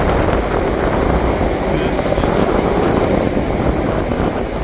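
Strong, steady wind on Mandarmani sea beach buffets the microphone with loud, continuous roaring noise throughout.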